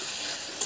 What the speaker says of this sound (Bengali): এবার চিকেনের সাথে মশলাগুলো ভালো করে এখানে আবারও কষিয়ে নিচ্ছি।